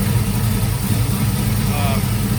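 A Chevrolet Camaro engine idles with its cooling fan running, giving a dense, steady rumble and whoosh that holds at an even level throughout.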